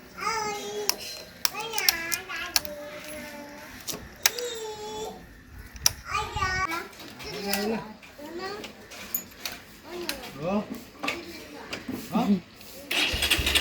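An engine cranks repeatedly without catching, mostly buried under close, steady talk from a child and an adult.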